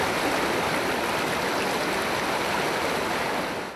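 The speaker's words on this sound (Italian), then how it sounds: "la corrente del fiume è forte," A strong, at times violent river current rushes steadily past in the rugged Montello area, a loud, unbroken roar of flowing water with no voices.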